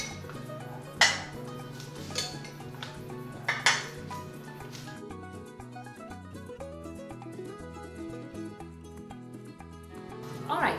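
Cereal bowls set down on a breakfast table over their underliners, giving a few distinct ceramic clinks and knocks at intervals against a soft, steady background.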